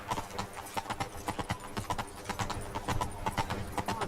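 Horse hooves clip-clop in a steady, rapid rhythm while riding in The Witcher 3: Blood and Wine, loud and close throughout with no other sounds standing out.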